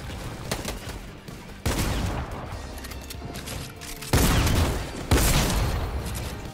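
Dense gunfire and explosions from an online arena shooter match, with continuous loud bursts and booms layered over one another throughout.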